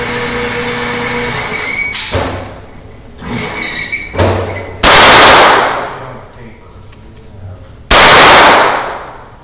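Rapid shots from a ZEV Socom Glock G17 pistol at a shooting range ring out as sharp, loud cracks, first a quick cluster of bursts, then two strings of fire, each followed by a ringing decay.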